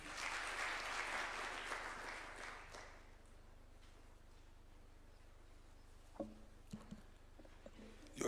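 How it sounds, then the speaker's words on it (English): Clapping from the audience at a presidential bill-signing event, a short burst that fades over about three seconds and leaves quiet room tone with a few faint knocks and shuffles. "A clap for him, please."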